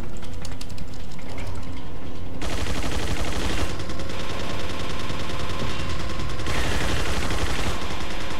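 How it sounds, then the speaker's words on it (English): Rapid automatic fire from a mounted turret gun in Resident Evil 4 Separate Ways, a loud continuous rattle of shots, dense from the start and swelling into heavier bursts, with no talk. "the controls in these turrets are fucking retarded"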